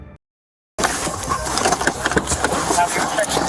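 A car engine revving hard during a police pursuit of a fleeing driver, bursting in loudly after a brief silence and surging in uneven roaring pulses, with voices shouting over it.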